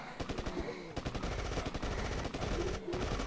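Rapid bursts of automatic gunfire from the hero character in the mobile video game State of Survival, loud close rattling volleys with brief pauses between them.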